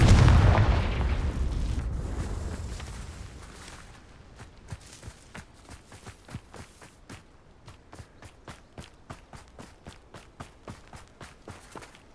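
A Confringo spell explosion in Hogwarts Legacy starts as a loud, deep boom that rumbles and fades over several seconds, followed by a long run of rapid, evenly spaced footstep-like thuds.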